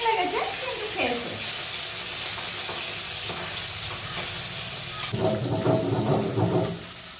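Fish frying in a pan gives off a steady, close hiss and sizzle, with louder crackling and spattering bursts toward the end.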